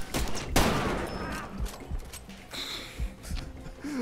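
Rifle shots from a Springfield in Far Cry 2, several sharp cracks spaced irregularly over a few seconds, loud and close with quieter game noise between.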